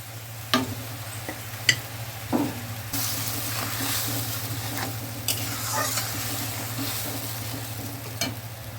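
Tilapia pieces cooking in mustard paste in a pan, a constant close sizzle over a low hum, with scattered sharp clicks and scrapes of stirring and a brief louder burst partway through.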